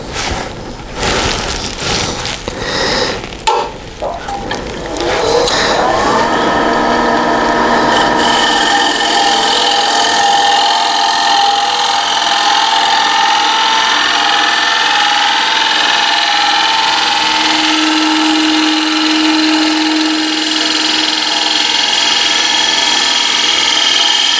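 A beechwood yarn bowl spins on a lathe, and after some rough scraping at the start it settles into a loud, sustained high-pitched whine and rasp that continues steadily with no talking.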